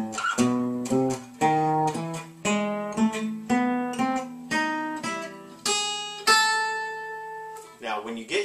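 A gypsy jazz guitar lick with lower neighbor notes, played as a run of picked single notes in short phrases with brief pauses, close and clear with no talking.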